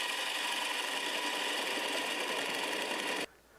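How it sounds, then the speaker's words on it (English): Half-inch bowl gouge cutting very hard macadamia wood on a lathe, a steady, loud, dense scraping hiss that runs continuously for about three seconds and then cuts off abruptly. "1/2-inch bowl gouge and we'll cut this away"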